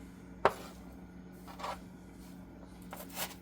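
Celery being finely minced with a knife for soup: one sharp, distinct chop near the start, then soft scattered knife taps and scraping against the board, fairly quiet and close.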